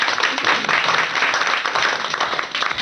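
A studio audience at a Hindi stage show breaks into loud, continuous clapping, dense and close, holding steady for a few seconds.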